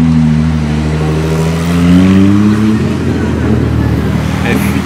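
A Ferrari F8 Spider supercar revs loudly nearby in Monaco, its engine note climbing in rising harmonic sweeps before settling, with street ambience behind and a voice talking over it.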